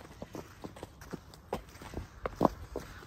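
A horse walks out on a ride, its hooves clip-clopping in an irregular sequence of moderate, close hoofbeats. Soft background noise runs beneath the steps, with no clear talk.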